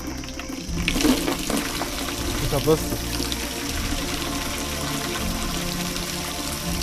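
Warm water runs steadily like a shower at a ranch built from wood, a continuous close splashing flow with a voice speaking briefly over it.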